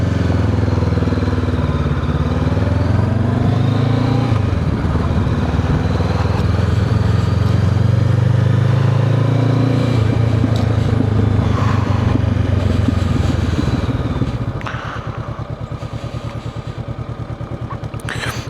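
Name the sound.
motorcycle riding, Honda CB500X or Suzuki GSF1200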